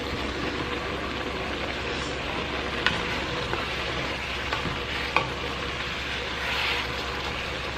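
Ground meat and mushrooms for chili sizzle steadily in a pot, a soft, even frying hiss with a few faint clicks of a utensil against the pot, no talking.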